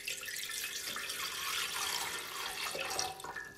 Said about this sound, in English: I'm going to take the warm water and just pour that into